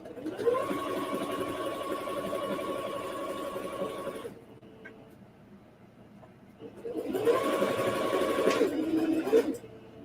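A Singer Sew Mate 5400 sewing machine stitches in two loud, steady motor-driven bursts of about four and three seconds, separated by a short quiet pause.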